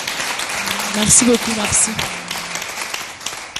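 Audience applause and clapping at a French-language talk show honouring a singer, a moderate burst that runs under a voice thanking the crowd.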